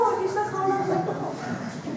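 A person in an English-speaking role-play imitates a cow with a sustained, wavering vocal moo, close and fairly loud, alone for about two seconds.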